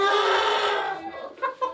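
A rooster clucks and calls close by, a loud harmonic call at first, then a few shorter clucks trailing off, with no talk.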